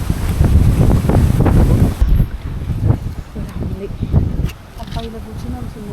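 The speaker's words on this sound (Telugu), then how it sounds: "గాలి అయితే ఘోరంగా వస్తుంది," Strong, gusty wind blows hard across the microphone as a dense, loud roar that eases after a couple of seconds, while people talk nearby.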